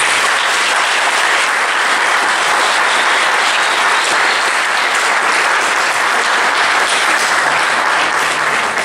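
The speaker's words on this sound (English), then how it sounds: "can I ask for a round of applause for Rachel, Paul, Dave and Maxine for all their hard work in making tonight such a success" Loud, dense applause from a room full of guests at an evening celebration, a sustained wash of many clapping hands that continues steadily without letting up.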